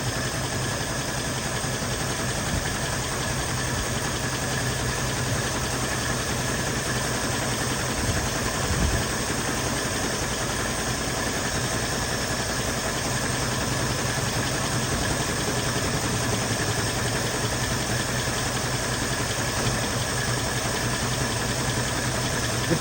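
A 1975 mail Jeep engine idling rough with a misfire, a steady close mechanical drone with an uneven, lumpy beat and a faint vibrating rattle, running alone for over twenty seconds.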